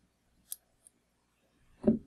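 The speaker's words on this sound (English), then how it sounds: "before I snip this butt end off right here" Scissors snip the thread butt end while a nymph fly is tied, giving two small crisp clicks followed by a louder, fuller handling sound near the end, close and quiet with no talk.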